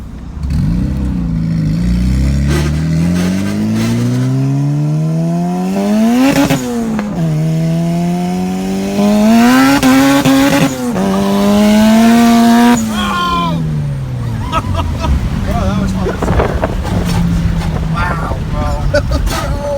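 500 hp Honda Civic on slicks accelerating hard, engine revving up through the gears in rising whining sweeps, loud and close, with brief shifts between pulls before easing off.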